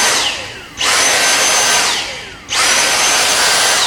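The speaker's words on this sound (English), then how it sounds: "got my Dyson vacuum here, and just run it around like this" A Dyson vacuum cleaner runs along the ballast and points of model railway track, its loud, steady suction roar surging up twice, with a brief dip between passes and no talk.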